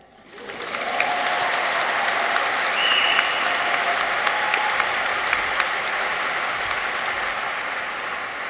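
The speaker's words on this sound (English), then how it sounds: "So we can clap again." A large crowd claps steadily at a University of Vermont College of Nursing and Health Sciences graduation celebration in 2023, the applause swelling in quickly and then holding as a dense, loud, continuous patter.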